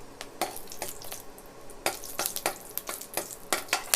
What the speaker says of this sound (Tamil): அதில் ஒரு துண்டு பட்டை, ஒரு ஏலக்காய், 2 கிராம்பு சேர்த்துட்டு இது பொரிஞ்சு வரட்டும்.